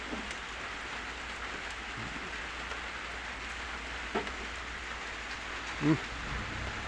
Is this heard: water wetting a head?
no